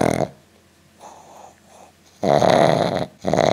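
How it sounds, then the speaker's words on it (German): An old dog with a blocked nose snores loudly and close by, with rough, rattling snorts in uneven bursts and quieter breathing between them. "Also ihr hört, er schnarcht immer"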